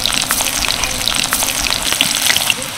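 Stuffed spiny gourds (kakrol) sizzle loudly in hot oil, a dense, steady crackle and spatter of frying close by with no one talking.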